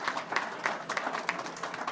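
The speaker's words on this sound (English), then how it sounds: "How about a round of applause for them?" A small crowd claps for campaign staff on election night, a brief, moderately quiet round of applause with scattered individual claps rising and falling.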